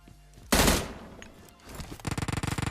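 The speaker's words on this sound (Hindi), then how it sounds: "पीछे से कोई ऊजी भी चला रहा था" Automatic Uzi gunfire in the PUBG Mobile video game: one loud burst, then a rapid run of evenly spaced shots that continues to the end, sounding close and sharp.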